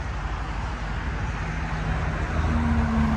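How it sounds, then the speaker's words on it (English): Constant low roar of traffic on the Belt Parkway in New York, a broad steady rumble with faint tonal hums from passing vehicles, no voices. "we got the noise from the Belt Parkway right here"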